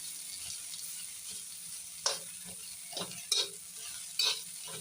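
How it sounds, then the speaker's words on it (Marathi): Onions sauté in a pan with a low steady sizzle, broken by a few sharp scrapes and clinks of a spoon stirring at close range, with no voices over the cooking. "कांदा चांगला परतून घेऊया आपण, एकदम खरपूस असा भाजून घेऊया."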